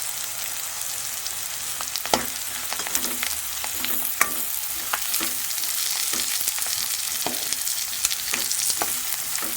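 Whole spices sizzling and crackling in hot oil in a pan for a South Indian Kongu-style fish curry, a steady close fry with occasional stirring clicks and pops.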